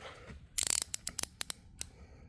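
A knife blade slices Xpel window tint film on a 1992 Porsche 911, with a quick flurry of crisp ticks and snips followed by a few isolated sharp cuts, close and quiet.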